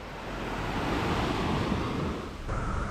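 Ocean waves wash onto a beach in St Vincent early on a grey morning, a steady broadband roar of surf with wind noise on the microphone, swelling and easing slightly with no voices.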